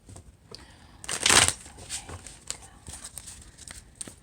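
A deck of tarot cards is shuffled close by, a quick ruffling burst followed by softer riffles and taps, quiet overall.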